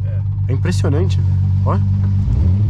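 Six-cylinder Volkswagen Golf engine idles with a deep, loud rumble that swells toward the end as it revs, while people talk excitedly over it.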